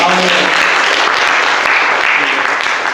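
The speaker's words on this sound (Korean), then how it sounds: "우리 다시 한번 우리 박수로 축하했으면 좋겠습니다" Church congregation clapping in celebration of two newcomers at a Korean Presbyterian church in Hartford, a loud, steady, full-room round of applause throughout.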